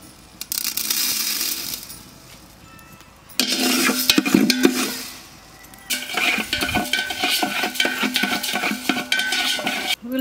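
Dry spices for sambar powder, dried red chillies and coriander seeds, roasted in a pan with bursts of scraping, stirring and rattling seeds against metal, loud and close, separated by quieter pauses.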